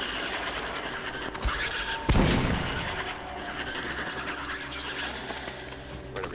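Gunfire aimed at spider creatures in Metro: Last Light, heard as a loud burst of shots near the two-second mark, followed by clattering mechanical rattles and scuttling noise at steady level.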